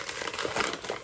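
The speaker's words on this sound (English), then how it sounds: "These are still wrapped, so I apologize for the noise." Plastic wrapping on thrifted goods crinkles and crackles in close, irregular bursts as the items are handled and unwrapped, fairly quiet and with no talking.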